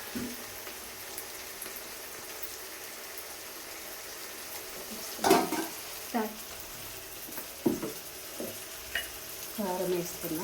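Tomatoes fry in a pan under a soft, steady sizzle, broken by several louder bursts of stirring and scraping close by, and a voice can be heard at times.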